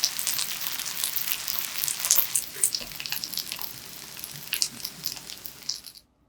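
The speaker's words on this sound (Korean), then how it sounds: "올리브유 충분히 두르고 달구어지면 반죽을 너무 두껍지 않게 적당히 올리고" Oyster-mushroom batter sizzles and crackles steadily in plenty of hot olive oil in a frying pan over medium-low heat. The sound is close and continuous, with no talking, and cuts off at the end.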